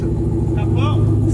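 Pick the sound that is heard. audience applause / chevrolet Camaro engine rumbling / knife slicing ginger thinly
chevrolet Camaro engine rumbling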